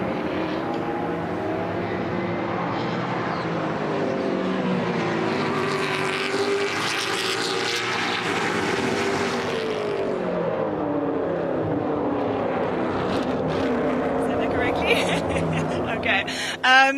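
Race cars in the pits at a race track, engines droning and swelling in a loud, continuous mechanical roar with rising and falling pitch, while people talk over it.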